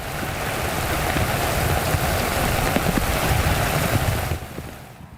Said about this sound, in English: Our camera was rolling this morning when one of the first strong rain bands moved in